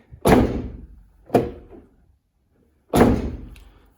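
Three solid car door thuds from a 2002 VW Cabrio, two close together then a pause before a third, each a heavy slam with a short decay.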